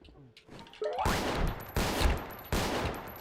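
Several heavy shotgun blasts boom in quick succession in the game Space Station 14, each loud and close, with a burst of game noise just before the first shot.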